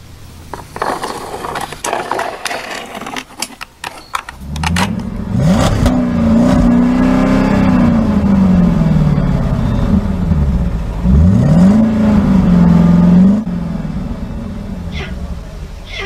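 A toy truck's engine revving sound rises and falls in a loud, sustained whine from a dinosaur adventure mountain playset, preceded by an excited voice.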